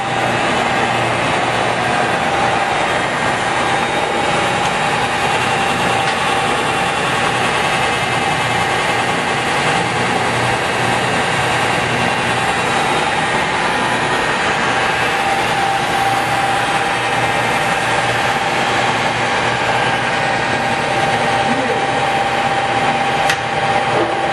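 Cincinnati No. 3HD horizontal milling machine running at 137 RPM, a loud, steady mechanical drone with a constant hum that holds unchanged and continuous throughout, with no talk.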